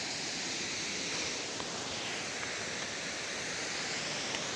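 Waterfall pouring in a constant, fairly faint wash of falling water, heard from a distance without speech.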